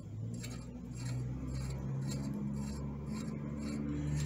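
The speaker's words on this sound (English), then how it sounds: "just thread the clutch nut on." A clutch nut being threaded onto an engine-mounted Grand Prix clutch: steady metallic rasping and rubbing with faint scraping and light jangling, close and quiet, no talk.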